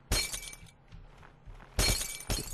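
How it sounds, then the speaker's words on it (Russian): Two loud crashes of glass shattering in the physics game Happy Wheels, each a sharp burst with scattered tinkling debris, separated by a quieter stretch. "Разбивай стекло!"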